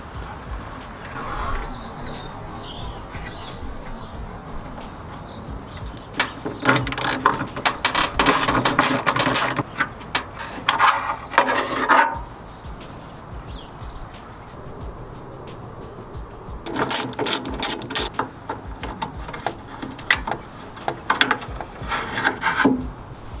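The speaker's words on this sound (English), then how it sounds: "Done by removing this 10mm bolt, and you can see that it is in a slotted hole" A ratchet turns a 10mm bolt out of a Mazda Miata door during window regulator work, with bursts of rapid clicking separated by quieter pauses and handling noise.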